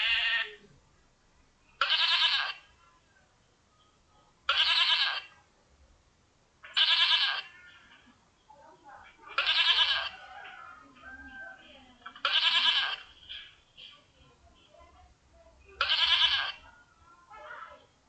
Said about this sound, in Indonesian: selanjutnya di sini saya akan masukkan suara kambing